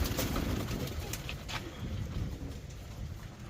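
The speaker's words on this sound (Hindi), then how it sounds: "तो मैं इधर से पकड़ता हूँ एक कबूतर" A domestic pigeon held in the hand gives soft coos and wing rustles, close and quiet, with a few sharp flutters and handling noises early on against low background murmur.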